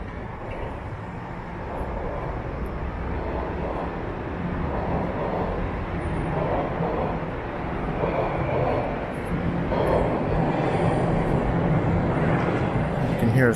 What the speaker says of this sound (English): You can hear a subway train heading down line 1